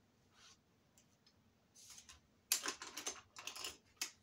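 Fold lines are creased into paper with a small bone folder guided along a little ruler while making a Christmas tree album, heard as quiet, scattered scraping strokes that build into a louder run of brisk rubbing near the end.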